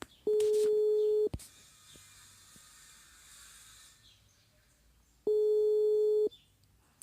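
A phone call rings unanswered: two long, loud electronic ringback tones about four seconds apart, with faint background noise between them.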